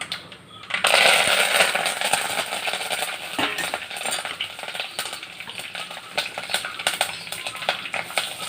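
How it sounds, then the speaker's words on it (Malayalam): Mustard seeds crackle and spit in hot coconut oil in a pan, a steady dense sizzle with sharp popping bursts, close and fairly loud, with no talking. "നമുക്ക് ഇതിനകത്ത് കുറച്ച് വെളിച്ചെണ്ണ ഒഴിച്ച് കൊടുത്ത് നമുക്ക് കടുക് വറുക്കാം"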